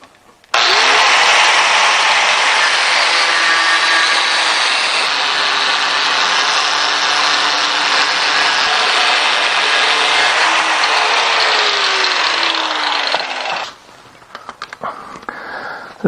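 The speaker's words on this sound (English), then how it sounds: "So I'm going to use my angle grinder for this." An angle grinder cuts through metal while making a chuck removal tool, a loud, steady, high whine that runs unbroken for about thirteen seconds before stopping, followed by a few faint clanks.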